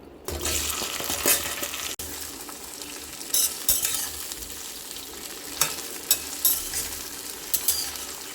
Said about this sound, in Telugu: కడాయిలో నూనె వేసుకొని కాగాక ఈ బెండకాయ ముక్కలు వేసేసుకోవాలి